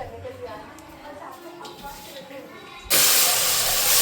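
A pressure cooker boiling chickpeas in a home kitchen lets out a sudden loud, steady hiss of steam near the end, after a stretch of quieter kitchen background.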